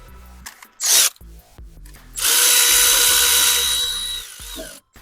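A power tool drives the valve cover bolts on a 2018 Ford Escape 2.5L, giving a short whirring burst, then a longer steady whine lasting about two seconds, with clicks and clinks between runs.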